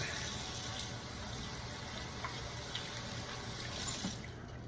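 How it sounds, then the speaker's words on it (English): Running water from a kitchen sink faucet pours steadily while hands are washed under it, a soft continuous splashing close by with small clinks and shifts in the flow. "I'll wash my hands real quick"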